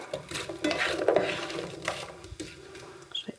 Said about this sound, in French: Alors on mélange pour enduire les pommes de ce corps gras.